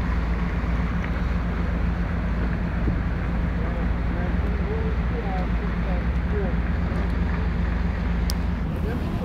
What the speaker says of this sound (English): That little boat is bringing people from the islands around here.